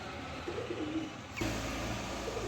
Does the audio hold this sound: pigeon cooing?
yes